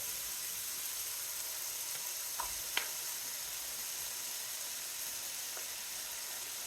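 Rice is stir-fried in a pan with garlic, ginger and tamari, giving a faint, steady sizzling hiss broken by a couple of brief utensil clicks.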